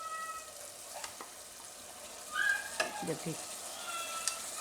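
Khichdi of carrots and potatoes being added and stirred into masala in a pot, giving a soft sizzle with scraping spoon strokes and a thicker stirring burst near the middle, under faint talk.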